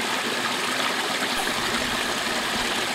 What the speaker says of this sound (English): that's basically how far the water gets to draw as it goes down this creek